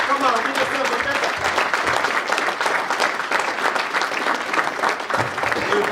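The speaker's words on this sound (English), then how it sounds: "Give yourself a big clap because you guys can do it." Steady, dense clapping from a crowd filling the whole stretch, loud and continuous, with a voice faintly talking underneath.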